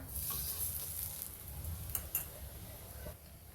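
Methi paratha frying in oil on a pan, a steady soft sizzle with light crackles and a couple of faint ticks, no one speaking.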